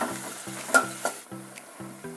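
Chilli pork with capsicum and tomato sizzles in a hot pan, a steady frying hiss broken by rhythmic scraping stirs of a spoon against the pan.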